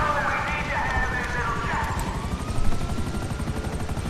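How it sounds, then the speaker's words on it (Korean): A Savage military helicopter in GTA 5 flies with a continuous loud rotor thrum and engine whine, its pitch shifting slightly, heard close and steady throughout. "일단 세비지 헬기 한번 해보겠습니다"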